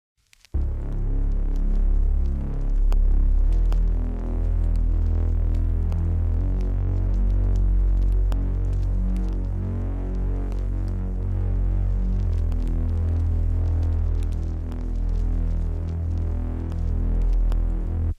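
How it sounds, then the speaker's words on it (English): Dark, grimy synth bass with reverb, a deep throbbing hum that sustains heavily for the whole passage with slow pulsing swells and no voices. "this is what the bass sounds like"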